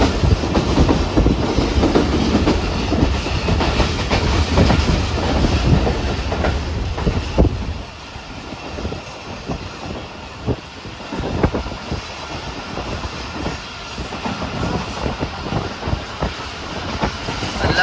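Shalimar Express passenger train rolling along the main line between Karachi and Nawabshah, a loud continuous rumble with rhythmic wheel clatter, heavy through the first seven seconds before easing into a lighter, steady running clack with wind buffeting.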